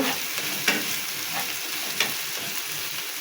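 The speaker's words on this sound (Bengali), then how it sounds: "এই রসুন বাটাটা পেঁয়াজের সাথে ভালো করে মিশিয়ে নেড়ে নেড়ে" Garlic paste and onion stirred together in a hot pan, a steady close sizzle of frying with two sharp scraping clicks of the spoon against the pan.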